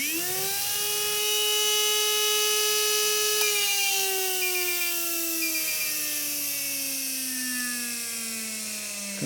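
A Fantom 13.5T brushless motor spinning on a dyno, a loud sustained electric whine that climbs quickly, holds a high pitch, then winds steadily downward with no talk.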